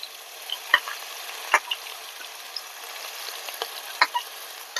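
Crushed onion, green chilli, ginger and curry leaves fry in hot oil for a Kerala sardine curry, giving a steady close sizzle with occasional sharp pops and stirring taps.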